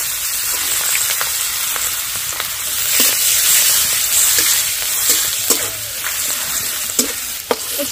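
Chopped beans frying in oil with whole cumin and turmeric, stirred with a spatula: a continuous bright sizzle punctuated by irregular scraping clicks against the pan throughout.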